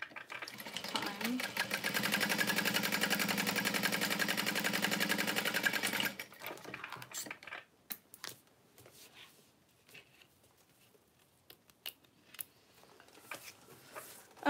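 A sewing machine stitches a small Valora bag in one steady, loud run of rapid, even needle strokes for about six seconds, then stops, leaving soft handling noises and occasional talk.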